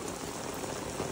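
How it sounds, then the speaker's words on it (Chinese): Sudden heavy rain pours down on a city street in Osaka, a dense, steady hiss of drops hammering the ground with no pauses and no voices. "路上突然给我这样下雨是怎样？"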